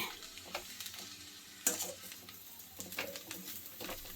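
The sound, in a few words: stirring vegetable poha bath in pan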